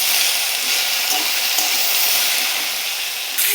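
Garlic and taro sizzle in hot oil in a pan, a steady loud crackling hiss that runs unbroken through the whole clip with no voice.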